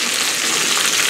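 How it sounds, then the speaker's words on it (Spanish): Rocoto pepper frying in a pan for a cream sauce, a loud, steady, close sizzle that crackles continuously with no other sounds. "Ahí está friendo el rocoto para la crema"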